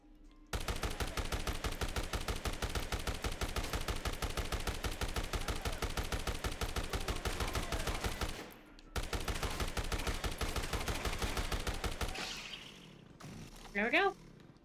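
Rapid automatic gunfire from the Dead Rising: Deluxe Remaster video game rattles loudly and steadily for about eight seconds, breaks briefly, then resumes for several more seconds before a short whistling, warbling effect at the end.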